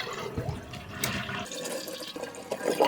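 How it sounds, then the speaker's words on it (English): A household toilet flushes after the water supply has been shut off, its tank draining with a steady rushing, gurgling wash of water close by that ends in trickling and dripping. "you're going to want to come over here and flush the toilet"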